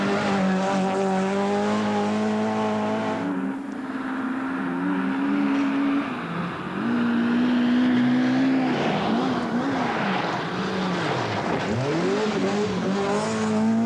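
A Group A rally car on a tarmac hairpin in Wycombe Forest, engine droning loud and close, dropping off into the bend and rising again as it revs out, with a tire squeal through the corner.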